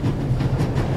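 A train carriage rolling along in the video game The Raven, a low steady rumble with a rhythmic clickety-clack of wheels, close and unbroken.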